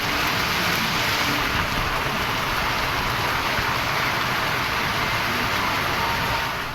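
Heavy rain pouring down in Salem, a steady, dense roar of downpour that stays loud and constant throughout with no voices.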